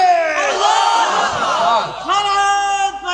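A large crowd at an outdoor Islamic religious gathering shouts the takbir in unison, a loud sustained chant that swells, breaks briefly, then rises again in a second surge.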